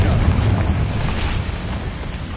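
Spell explosions from Bombarda and Confringo in Hogwarts Legacy, a dense, rumbling boom with a heavy low-end roar sustained throughout, loud and close.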